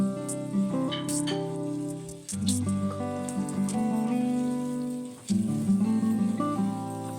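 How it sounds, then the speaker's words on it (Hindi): Goat meat sizzling and frying in a pot with crushed garlic and ginger paste, a steady close crackle with brief stirring scrapes, overlaid by a continuous musical tone throughout. "अब मैं अच्छी तरह लहसुन अदरक के साथ इसकी भुनाई कर रही हूँ"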